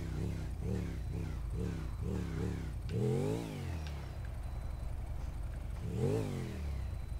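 A motorcycle engine in GTA 5 revs repeatedly in quick rhythmic bursts, then climbs through longer accelerating sweeps, steady and fairly close throughout.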